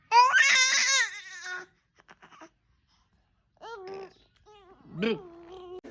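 An infant cries loudly in close, strained wails for about a second and a half. Quieter whimpers and babbling follow, then one more short cry near the end.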